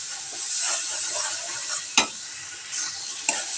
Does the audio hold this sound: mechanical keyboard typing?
no